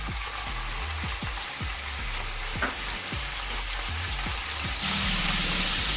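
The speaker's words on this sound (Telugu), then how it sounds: "ఆయిల్ వేడెక్కాక మనం పచ్చిరొయ్యలు వేసుకుందాం" Raw prawns frying in hot oil for a brinjal curry, with a steady close sizzle and a run of sharp, rhythmic low knocks of stirring or pan movement, the sizzle swelling louder near the end.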